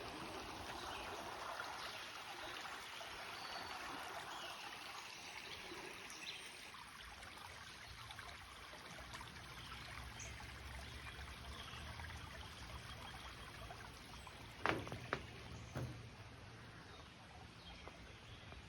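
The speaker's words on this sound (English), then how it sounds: "I just came out to this area with this nice flowing creek" A creek flows through a shady park in York, Pennsylvania, a soft, steady trickle and wash of water heard from nearby, with a few faint clicks and knocks toward the end.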